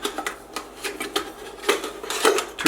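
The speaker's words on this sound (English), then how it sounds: "This is kind of a two-person mess kit." A two-person camping mess kit being handled, with metal silverware, plates and cups clinking and clattering in quick irregular bursts close by, with no voices.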